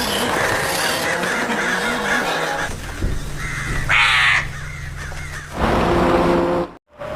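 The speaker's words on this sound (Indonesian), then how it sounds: "Namun burung gagak itu masih mengejar mereka" Crows cawing in a horror film scene: repeated harsh caws from several birds, near and loud, over rumbling background noise and rustling, with a brief silent gap near the end and no speech.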